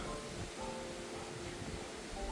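Steady broadband wind noise buffets continuously outdoors in southern Odesa Oblast, Ukraine, a dense rushing roar with no pauses.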